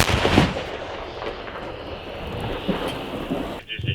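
An artillery gun fires in combat: a heavy booming blast opens the clip, followed by a long rumbling roar that fades and then cuts to quieter noise.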